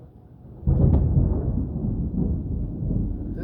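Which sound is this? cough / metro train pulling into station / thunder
thunder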